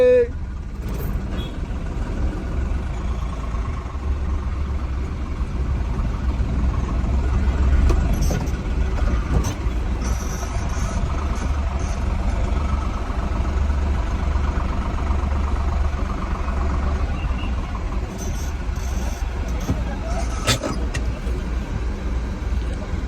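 A new truck's engine idles steadily in front of the Dharmasthala temple, a continuous low rumble with occasional sharp clanks and hisses, while people talk nearby in the background.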